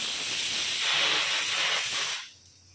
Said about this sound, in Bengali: এই গরমকালে নিয়মিত বাড়িতে প্রেসার কুকারে সিটি পড়বে